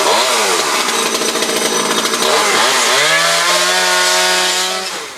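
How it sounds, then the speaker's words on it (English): A chainsaw pruning brown palm fronds runs loud and close, its engine whining and revving up and down before settling into a steady high drone. "he's getting his chainsaw ready, and he will start removing the brown fronds"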